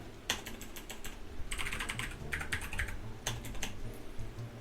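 Clusters of clicky keystrokes on a computer keyboard come in quick bursts with short pauses between them as Python and JavaScript code is typed for web development, close and fairly quiet with no voices.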